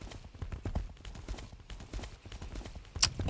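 Galloping horse hooves in the video game Age of Wushu, a quick steady clip-clop rhythm running throughout at moderate loudness, with a brief brighter whinny-like accent near the end.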